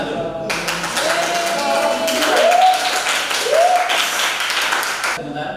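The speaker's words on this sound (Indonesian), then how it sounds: "Yang lainnya tolong tepuk tangan dulu." A group claps together in a classroom or presentation setting, a dense burst of applause lasting several seconds before stopping abruptly.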